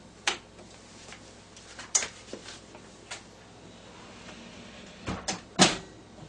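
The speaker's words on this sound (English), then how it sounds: "Close the door." The door of a slot machine bumped and shut, a series of sharp knocks and clicks spread across several seconds, the loudest near the end, with no voices present.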